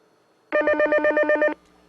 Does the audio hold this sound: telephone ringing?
yes